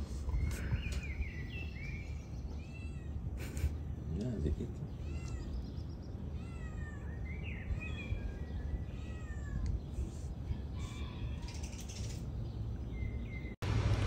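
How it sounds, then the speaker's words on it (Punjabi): Cats meow repeatedly in a city setting in Sofia, Bulgaria, producing a series of short rising and falling calls, fairly faint, over a steady background hum. "ਦੇਖੋ ਬਿੱਲੀਆਂ"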